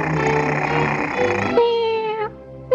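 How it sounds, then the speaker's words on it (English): A cartoon cat meows in a 1951 animated short, a long, strained, wavering cry that slides and breaks near the end, loud and close against a thick orchestral music bed. "Now turn on your motor and make with the meows."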